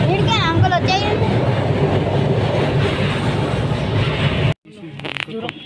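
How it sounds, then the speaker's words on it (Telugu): A train near the Maha Kumbh Mela rumbles past loudly and steadily with clattering wheels and some high squeals. The noise cuts off abruptly near the end, and voices are faintly audible afterward. "ఆగిన ట్రైన్ ఇప్పుడే మళ్ళీ వచ్చింది"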